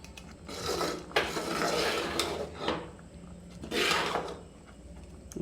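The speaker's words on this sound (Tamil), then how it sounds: "இனிமேல் தான் கை விடாமல் கிண்டிக்கிட்டே இருக்கணும்." A spoon scrapes and stirs a thick sweet cake mixture in a pan, with rough rubbing strokes and a few sharp metallic clinks, close and fairly quiet, in uneven bursts.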